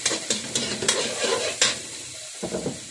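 Spices and recado hiss and sizzle in a hot pan while a utensil stirs in repeated scraping strokes, close and fairly loud, with brief pauses near the end.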